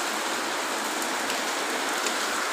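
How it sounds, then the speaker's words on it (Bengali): Heavy rain pours down steadily, a dense, continuous hiss of drops striking surfaces close by, with no voices over it. "আর এই চলছে বিশাল বৃষ্টি, বিশাল।"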